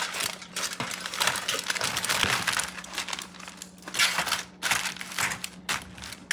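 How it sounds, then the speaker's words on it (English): Aluminum foil crinkles and crackles close up in irregular bursts, rustling continuously with brief pauses. "No, I'm going to use the aluminum foil."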